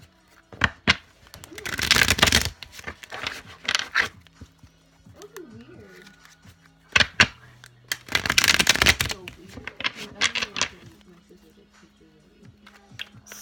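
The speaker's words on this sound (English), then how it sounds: "Let me try shuffling one more time." Tarot cards shuffled by hand, with loud, close riffling bursts and scattered sharp card taps, and a faint voice murmuring in the gaps.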